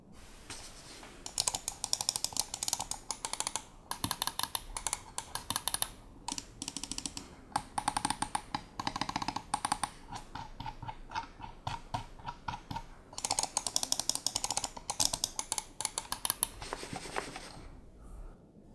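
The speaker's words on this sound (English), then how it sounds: "Scroll wheel feels smooth and the clicking sound is not too loud." Lenovo Legion M500 gaming mouse buttons click in rapid, irregular bursts, close and moderately quiet, with brief pauses between runs of clicks and no voices.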